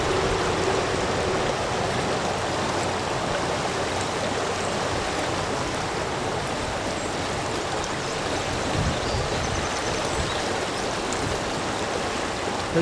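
A trout stream in Central New York flows around rocks with a constant close rushing and burbling of water, loud and unbroken throughout.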